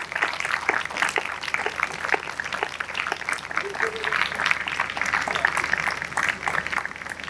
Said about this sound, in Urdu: تالیاں زوردار ہونی چاہیے خدا کے جلال کے لیے